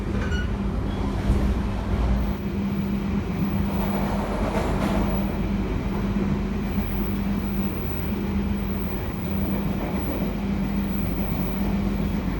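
KA Sancaka executive class passenger train running at night between Surabaya and Yogyakarta near Mojokerto, heard from inside as a steady low rumble with faint rail clatter and a sustained tone, continuous and unbroken.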